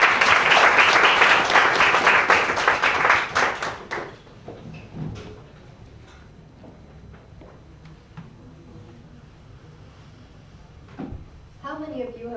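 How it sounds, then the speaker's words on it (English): Applause for presenter Zaina at an exhibition at Expo 2020 Dubai, a loud burst of clapping lasting about four seconds before fading to scattered claps, footsteps and quiet room noise, with a voice starting near the end. "Can we please have a round of applause for Zaina?"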